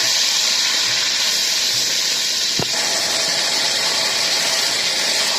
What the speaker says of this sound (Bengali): এখন এটা ভাজা হবে।